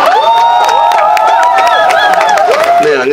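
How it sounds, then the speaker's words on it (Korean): An audience greets a visiting university professor with loud, close applause and cheering, with whoops and shouts rising above a dense bed of clapping that dips and changes near the end. "박수 부탁드립니다"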